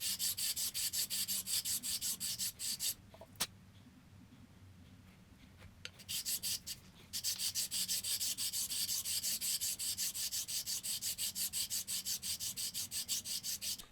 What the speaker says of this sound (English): I can kind of get an inference as to where we're going with just that little bit of sanding